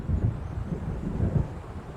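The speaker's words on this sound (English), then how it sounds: "It seems there's a storm coming." Low, distant rolling rumbles of thunder from an approaching storm in Alan Wake, soft and muffled under a faint windy hiss, with no talking.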